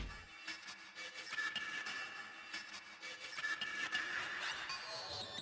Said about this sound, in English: we've got this really, really garbled vocal effect